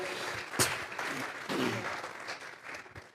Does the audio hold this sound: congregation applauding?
yes